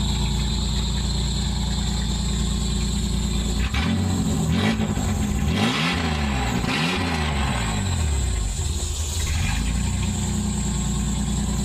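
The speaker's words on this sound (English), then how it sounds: "Stupid belt squeal" A small car's engine runs steadily close by, with a couple of brief revs rising and falling midway and a persistent high-pitched belt squeal riding over the motor throughout, with no talking.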